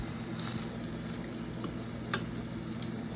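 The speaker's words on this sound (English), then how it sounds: "Let's mix up the shrimp." Shrimp for tacos sizzle softly in a pan as they are stirred, a faint steady crackle with a single sharp utensil clink partway through.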